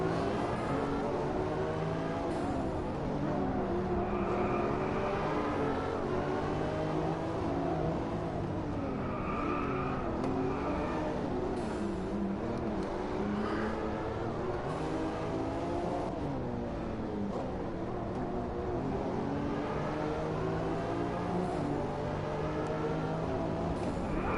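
Car engine in the racing game Driveclub VR, played on PlayStation VR with a Logitech G29 wheel, driving a small roofed car: a continuous engine drone with rising and falling revs throughout, with no talking.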